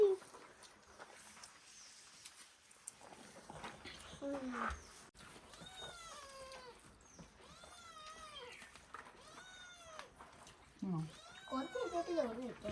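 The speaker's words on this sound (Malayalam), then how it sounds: "അമ്മ പൂച്ച എന്റെ കാലിൽ" A mother cat meows again and again close by, with several drawn-out, rising and falling cries over the second half, while a person talks nearby.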